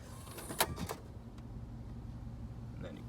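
The disc tray of a 12-disc CD changer in a 1999 Cadillac Fleetwood Limited slides quickly back into place, giving a couple of sharp clicks and a clunk over a low steady hum, quiet and close.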